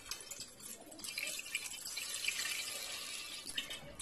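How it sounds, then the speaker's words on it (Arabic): Half a litre of milk pours into a saucepan with a faint, continuous liquid trickle and splash, quiet and close, with no talking. "كناخدو كاسروله كنديرو فيها نصف لتر ديال الحليب"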